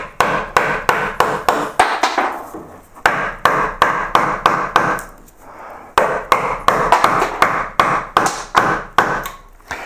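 Chisel or flat gouge struck repeatedly with a mallet, knocking wood off along the grain of a Hepworth-style carved sculpture; close, loud, sharp taps in fast rhythmic bursts with brief pauses between runs.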